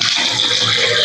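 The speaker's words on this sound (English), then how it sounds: "Washing my face." Water runs steadily from a tap while someone washes their face, a continuous close splashing hiss with no talk.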